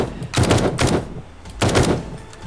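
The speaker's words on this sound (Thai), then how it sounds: "กลัวไม่ตายยิงซ้ำเลยยิงซ้ำไปเลย" Rapid bursts of gunfire at zombies in 7 Days to Die, two loud clusters of fast repeated shots separated by a short lull, no talking over them.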